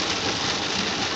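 Rain pours down steadily during a storm, a dense, even hiss of drops drumming on surfaces that stays constant and fairly loud throughout with no other sounds.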